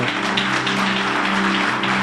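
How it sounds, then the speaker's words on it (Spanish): A church congregation claps loudly and continuously, a dense sustained wash of applause filling the space with no break, with a low steady hum of music or organ underneath. "dele un fuerte aplauso al Señor"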